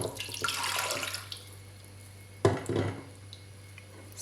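Water pours from a tap into a cooking pot while a Moroccan meat dish is being made, a short splashing run near the start and a second brief pour midway, with light clinks of cookware.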